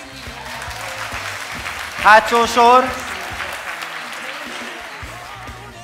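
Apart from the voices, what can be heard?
audience applause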